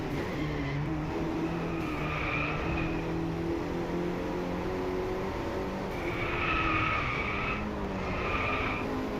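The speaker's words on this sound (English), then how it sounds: "The car does like to slide around a lot." Car tires skidding and squealing as a car slides through corners in the racing game DRIVECLUB, with steady engine drone throughout and a few louder screeching bursts.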